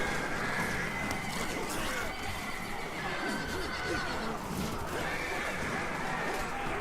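A cavalry unit of horses neighs and whinnies in a loud, dense battle in the Total War: Arena video game, with hoofbeats and the clamor of fighting throughout.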